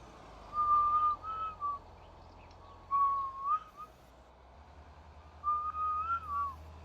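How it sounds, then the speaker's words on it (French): Three short whistled phrases, each a sliding, slightly warbling tone, separated by pauses over a low steady hum. "le sifflet que vous entendez"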